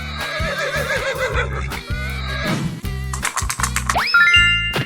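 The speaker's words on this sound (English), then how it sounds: "Horse." A cartoon horse in a 3D animal slide video game neighs several times over bouncy, looping game music with steady thumping beats, ending in rising electronic chimes.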